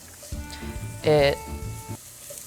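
Red pepper flakes hiss and sizzle in a hot pan with onions and garlic, a steady close frying noise that swells briefly as they land, while someone talks over it.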